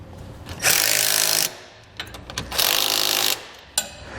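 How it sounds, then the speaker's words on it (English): A power tool drives a 15mm socket onto ATV winch mounting nuts on a 2018 Kawasaki Teryx4 800, two close bursts of buzzing rattle about a second each, separated by brief clicks and handling noise. "we will then tighten these down using a 15mm socket for the nut and a 13mm wrench to hold the bolt on the back side"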